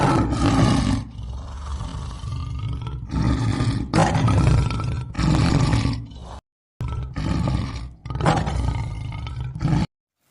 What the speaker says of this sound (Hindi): तेंदुआ अपने दहाड़ से उन बिल्लियों को भगा देता है